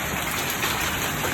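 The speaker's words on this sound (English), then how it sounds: "didn't want to miss this hail" Hail pours down in a dense, steady hiss of pelting ice hitting surfaces outdoors, loud and continuous.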